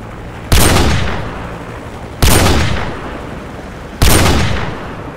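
Three heavy sniper rifle shots in Call of Duty 4: Modern Warfare, each a sharp loud blast with a long rolling decay, spaced evenly about two seconds apart with no talk.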